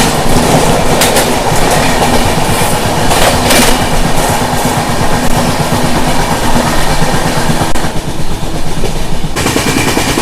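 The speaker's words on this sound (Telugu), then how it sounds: "మన ఎదురుగా చూసుకుంటే నవజీవన్ ఎక్స్ప్రెస్ అయితే వస్తుంది" The Navajivan Express rushes past on the opposite track, a loud, close, unbroken roar with rapid clickety-clack from the wheels that runs for about ten seconds before easing slightly near the end.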